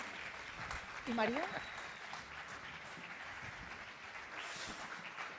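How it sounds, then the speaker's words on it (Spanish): Audience applause at a carnival-style Antroxu comedy gala fills the room as steady clapping throughout, swelling briefly, with a presenter speaking over it. "Fuerte el aplauso"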